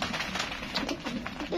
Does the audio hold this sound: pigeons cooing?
yes